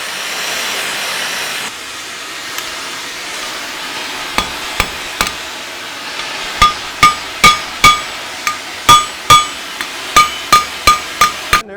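Heated rivet being headed with a hammer in a blacksmith's shop: a steady hiss at first, then a run of loud, sharp, evenly spaced metallic blows that grow more regular and ringing.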